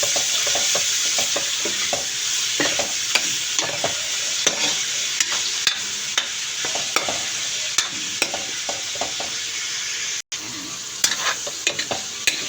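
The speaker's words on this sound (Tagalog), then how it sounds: "pag naluto na po yung sibuyas, pwede na natin lagay yung karne" Lean meat dropped into a pan of cooked onions sizzles loudly and steadily, with frequent sharp scrapes and clicks of a utensil stirring throughout.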